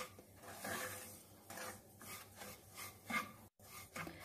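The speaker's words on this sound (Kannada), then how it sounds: "ಸ್ಲೋ ಫ್ಲೇಮಲ್ಲಿಟ್ಟು ಇದನ್ನು ಫ್ರೈ ಮಾಡಿಕೊಳ್ಳಿ. ತುಪ್ಪ ಎಲ್ಲ ರವೆಯೊಂದಿಗೆ ಮಿಕ್ಸ್ ಹಾಕಬೇಕು." Semolina stirred and fried in ghee in a pan over a slow flame gives a steady gritty rubbing and scraping, with repeated strokes of the spoon close by and no voices.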